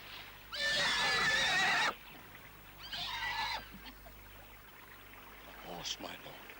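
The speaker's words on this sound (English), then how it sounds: "Horse, my lord." A horse out on a foggy moor near a bog neighs loudly in one long whinny, then gives a shorter second call, with faint water trickling and a brief voice toward the end.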